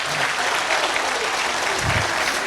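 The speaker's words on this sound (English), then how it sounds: "Can we please have a big round of applause for everyone?" Audience at a school annual gathering breaks into a dense, sustained round of applause that fills the room, loud and continuous throughout, with no voices over it.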